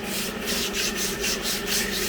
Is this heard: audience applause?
no